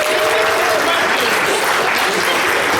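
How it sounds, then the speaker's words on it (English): Loud, dense applause from a convention quiz audience cheering the competing teams, continuous and full throughout, with faint voices and calls mixed into the clapping. "Give them a round of applause."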